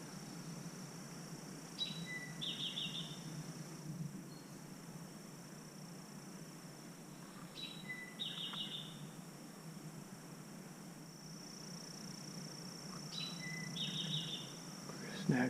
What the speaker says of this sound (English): So you could hear all the bird sounds.